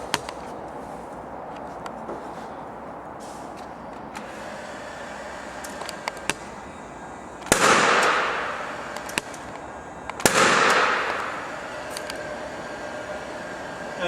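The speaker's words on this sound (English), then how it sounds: "2 Paslode impulse nailers, one a tacker and one a nailer" Paslode impulse nailer fired twice a few seconds apart, each a sharp close bang followed by a short whooshing tail, over a low, quiet background.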